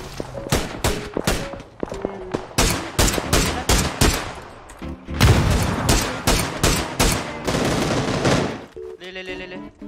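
Gunfire in the video game PUBG rattles out in rapid, loud bursts of automatic shots, clustered volleys repeating across the whole stretch with brief gaps between them.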